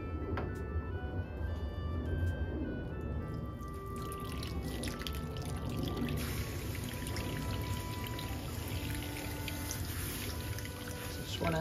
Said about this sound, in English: now we're gonna add the milk